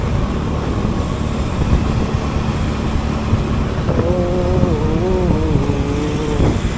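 Motorcycle climbing a very steep, winding uphill road, with a steady loud engine drone and road rumble throughout and a rising whine of revs near the end.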